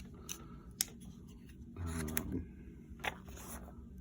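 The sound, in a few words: Hogue Deca knife (MagnaCut, Ultem) cutting open a package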